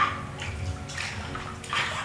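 Warm water in an indoor baptism pool sloshes and splashes in a few soft surges, close and moderately loud, with no voices.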